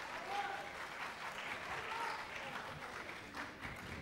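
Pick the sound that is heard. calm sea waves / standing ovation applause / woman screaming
standing ovation applause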